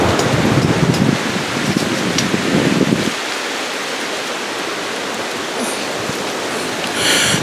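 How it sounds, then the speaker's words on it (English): Strong wind roars across a mountain in West Virginia during a wind advisory, a loud, constant broadband rush that swells heavily for the first three seconds, then settles into a steady, slightly softer blast. "The wind is very strong."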